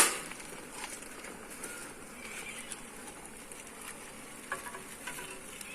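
Honey bees buzz around an opened beehive while honeycomb is handled, a steady, soft, diffuse hum with no voices.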